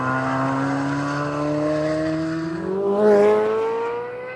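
A Chevrolet Corvette's naturally aspirated V8, which revs beyond 8,000 rpm, sounds loud and close. Its engine note climbs steadily in pitch as it revs, then swells to a peak near the end.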